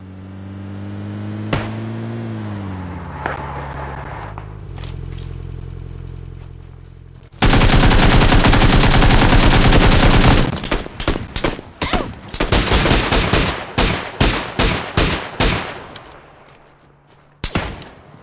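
UMP submachine gun fire in the video game PUBG Lite: a loud, continuous automatic burst of several seconds, then rapid short volleys and scattered shots, following a steady vehicle engine drone.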